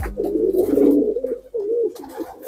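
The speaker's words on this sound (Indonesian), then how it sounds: "Pada pagi hari ini burung merpati giring semua saya umbar." Giring pigeons coo in a low, throaty rolling murmur, a continuous warbling close to the ground, loud and steady with a brief dip midway, and no talking over it.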